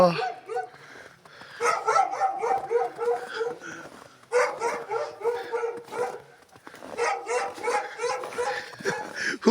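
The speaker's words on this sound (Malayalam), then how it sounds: "ഒരു പട്ടി കുറയ്ക്കുന്നുണ്ട് നന്നായിട്ട്" A dog barks repeatedly in a village setting, a run of sharp, mid-loud barks and yips in bursts across the clip, with people talking nearby at times.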